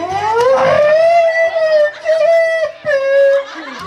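At an outdoor patronal festival in Uluazapa, a loud, close wavering wail rises and holds like a siren, mimicked by a human voice, broken by brief pauses and faint background noise.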